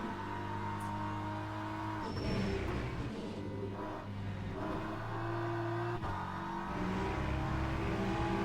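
BMW race car engines droning steadily at high revs in the Le Mans Ultimate racing game, several cars blending into a continuous layered roar with brief shifts in pitch as they pass.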